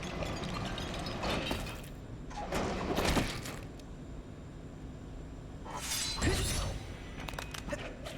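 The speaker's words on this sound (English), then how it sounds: "do you mind not smashing up my ship with your novelty flying disc?" Objects smashing apart in the Lego Marvel Super Heroes 2 video game, a few loud shattering crashes with bursts of debris spread over several seconds against a steady game background.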